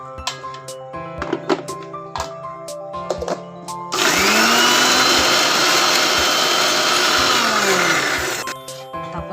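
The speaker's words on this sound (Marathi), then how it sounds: "पहिला कढीपत्ता जास्त आहे, मी तो पहिला फिरून घेते मिक्सरला." A mixer grinder whirs loudly and steadily for about four seconds as it grinds curry leaves for a curry leaf chutney, then winds down. Light clinks of kitchen utensils come before and after.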